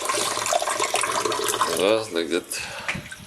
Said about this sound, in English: Let's give them some water.